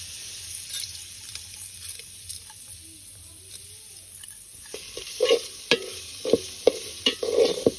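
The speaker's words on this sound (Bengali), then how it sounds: "তারপরে মসুর ডাল দিয়ে দেবেন যেগুলো আগে থেকে খোলাতে তেলে নেওয়া হয়েছে এভাবে কিছুক্ষণ নাড়াতে থাকবেন মশলাগুলো কষানো না হওয়া পর্যন্ত" Lentils and spices frying in oil in a pan, with a steady low sizzle that turns into a run of sharp scraping stirs and clatters in the last few seconds, close and fairly loud.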